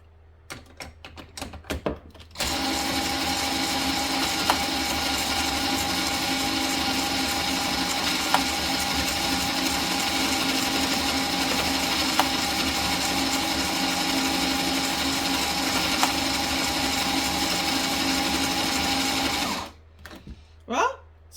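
Electric screwdriver attachment cranking a knitting machine to knit rows of Bernat Premium yarn for a hat, giving a loud, steady mechanical whir that runs continuously for most of the clip after a few brief knocks.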